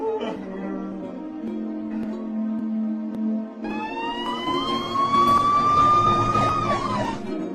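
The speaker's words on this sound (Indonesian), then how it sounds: "dari kejauhan terdengar suara sirine mobil polisi" A police car siren wails over a low rumble of traffic and engine hum. The wail starts partway through and sweeps up and down steadily.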